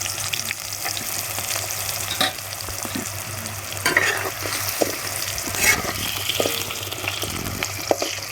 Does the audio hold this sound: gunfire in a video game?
no